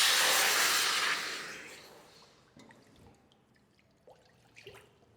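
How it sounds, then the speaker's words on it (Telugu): Half a litre of water is poured into a cooking pot for carrot halwa, a loud rushing splash that gradually fades into faint trickles and a few scattered drips, with no voices. "కొలిసి మరీ పోస్తున్నాను ఒక హాఫ్ లీటర్ వాటర్."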